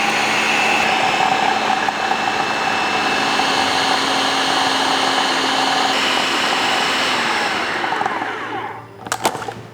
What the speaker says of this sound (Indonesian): Lalu kita blender lagi sampai menyatu.